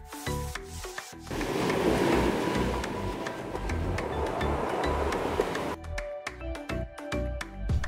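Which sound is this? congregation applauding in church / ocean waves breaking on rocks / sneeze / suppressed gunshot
ocean waves breaking on rocks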